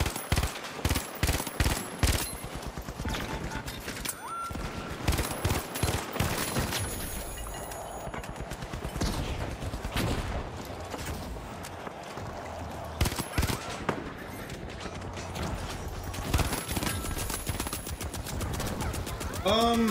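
Rapid turret gunfire in a video game, dense bursts of repeated shots hammering away loudly, with some pauses and background game noise throughout.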